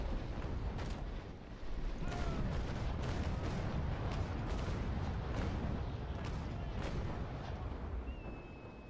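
Cannon broadside fire from the age-of-sail naval game Naval Action, a steady barrage of heavy booms and sharp cracks repeating every half second or so over a rumbling backdrop of sea and battle noise.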